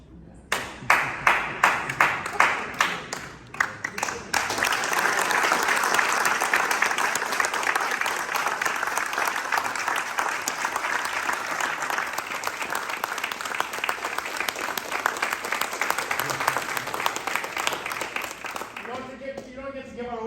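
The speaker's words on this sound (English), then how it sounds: "I want to give you a round of applause." A farewell crowd gives a sustained round of applause at a fire chief's last-shift send-off, opening with a few separate claps and then swelling into dense, steady clapping that holds for most of the stretch before easing off at the end.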